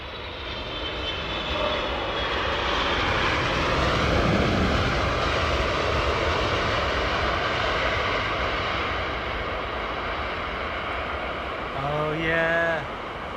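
A heavy airliner arriving at Heathrow Airport on an early morning approach, its engines roaring loud and close as it passes overhead, swelling then slowly fading into a long, rumbling wash.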